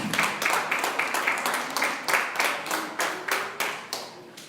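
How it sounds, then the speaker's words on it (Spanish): A church congregation claps loudly in rhythmic, unison bursts, roughly three or four claps a second, close and steady throughout with a faint hint of voices underneath. "Denle un aplauso fuerte."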